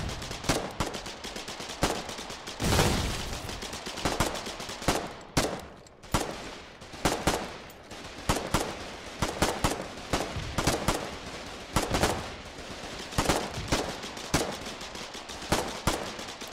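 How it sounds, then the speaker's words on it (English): Sustained automatic gunfire in the war game Foxhole, rapid bursts and single cracks overlapping continuously with a heavy close volley near the start and steady firing throughout. "Keep firing! Get back up here and fire out that foxhole!"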